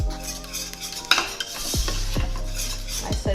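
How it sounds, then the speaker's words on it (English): A spoon stirs mac and cheese sauce in a pot over low to medium heat, scraping and clinking against the pot with a soft sizzle beneath, steady and close with no talking. "you want to consistently stir so the bottom does not burn"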